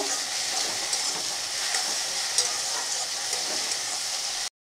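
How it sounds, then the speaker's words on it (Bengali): Chopped onion and ginger-garlic paste frying in oil in a pan, a steady close hiss of sizzling that holds evenly and then cuts off abruptly. "পেঁয়াজটা ভাজা হয়ে গেছে, আর আমি আদা রসুনের পেস্টটা বেশ অনেকটাই নিয়ে নিয়েছি, একটু বেশি। তো একটু কষিয়ে নেব।"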